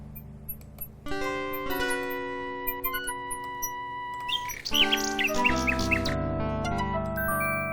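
Chirping bird calls play over sustained synthesized game music in King's Quest VI, a quick run of bright, repeated tweets in the middle of the passage.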